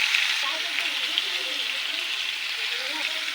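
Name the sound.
vegetable stems frying in a pan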